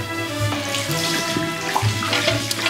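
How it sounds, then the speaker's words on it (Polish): Hair rinsed under running water during washing, a steady, close gush of a flowing tap with small splashes and shifts as the stream hits the hair, heard alone without speech. "Myjemy włosy około 2 minut i zawsze myjemy dwa razy."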